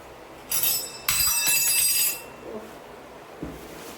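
Ration rice being measured out with a steel tumbler, giving two bursts of bright clinking and rattling grain against metal, close and fairly loud, then fading to quiet with faint soft knocks.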